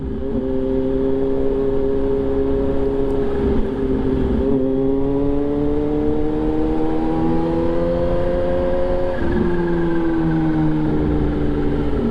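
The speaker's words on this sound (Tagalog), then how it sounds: "Pero nadidinig ko pa naman ang mga tambutso nyo." Motorcycle exhausts drone continuously nearby on a group ride, pitch rising and dipping as the throttle is revved and eased, steady and loud throughout.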